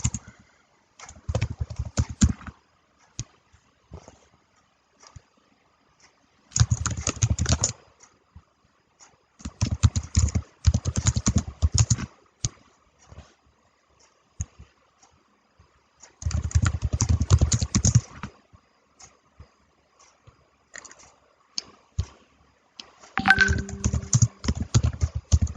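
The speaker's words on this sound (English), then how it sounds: "So I'll just type this, I think it's faster that way." Fingers type on a computer keyboard in several bursts of rapid, close clicking key taps, separated by short quiet pauses.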